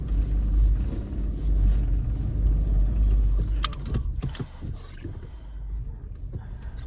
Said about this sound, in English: We do have a 4-wheel drive.